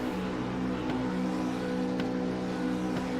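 Race car engines in the iRacing sim game hum and rev steadily on the Road Atlanta grid, a continuous droning engine tone with faint revs and no talk.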